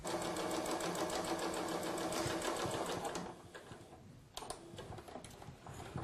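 Sewing machine stitching a mitred hem, running in a fast steady rattle of needle strokes that stops partway through, followed by a few light clicks and handling sounds, close and fairly quiet.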